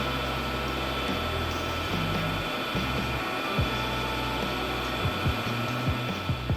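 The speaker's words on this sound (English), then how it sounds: "if you use a really rough grit belt, it basically shreds the wax off in little pellets" A rough-grit belt sander grinds against a wax sword guard, a steady whirring hum broken by short scraping bursts as the wax shreds into pellets, fairly close and heard alone.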